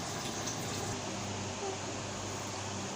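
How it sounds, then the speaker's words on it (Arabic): Water simmering in a cooking pot over medium heat as rice kofta stews, a steady bubbling hiss with a faint low murmur. "وسايباها بقى تتسبك كده وتغلي لحد ما تستوي على نار متوسطه"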